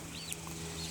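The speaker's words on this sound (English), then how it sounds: "Here are the chickens running around." Backyard chickens in a coop built for six birds give faint, soft clucks and brief chirps over a steady low hum, with no talk.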